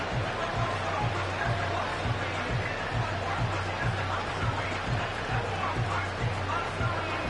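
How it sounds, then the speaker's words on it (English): Broad, steady roar of a large football stadium crowd late in a close game on a short-yardage down, a dense wash of cheering and babble with a faint repeating low thump underneath. "this crowd trying to force a false start here"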